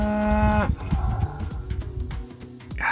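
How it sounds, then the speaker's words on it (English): Vocal cows moo loudly at a South Dakota boondocking spot, one long low moo followed by shorter overlapping calls from the herd, close by and with no talk. "These are the most vocal cows I've ever heard."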